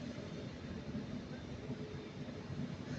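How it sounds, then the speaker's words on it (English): A Northern Class 323 electric train, formerly with West Midlands Trains, pulls into Manchester Piccadilly station with a steady, close, low rumble that holds at an even level throughout. "Okay guys, we've got Northern Class 323 coming in."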